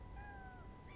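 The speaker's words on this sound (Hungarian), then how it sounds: "Visszhangzik a nyávagásunk, ez már haladás." A cat's meow in the video game Stray, echoing faintly with thin gliding tones over a low ambient rumble, with no talking.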